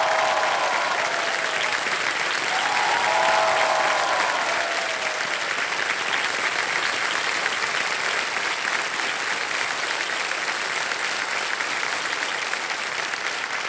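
Loud, sustained applause from a television quiz show studio audience on Kaun Banega Crorepati, steady dense clapping filling the whole stretch without a break.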